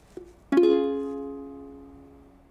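A single ukulele chord is strummed once after a faint pluck, ringing clearly and close before decaying slowly over a couple of seconds.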